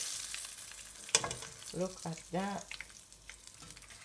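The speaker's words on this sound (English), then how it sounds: "So this has come to the end of my frying of my fish, guys." Gray snapper fish fries in hot oil with a continuous, close crackling sizzle, while a voice speaks briefly over it.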